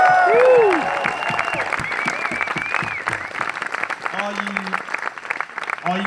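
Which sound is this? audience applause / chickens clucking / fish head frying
audience applause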